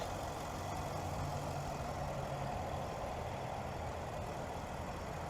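A 2023 Nissan Armada SV's 5.6-liter naturally aspirated V8 idles with a steady, even, close rumble and no talking.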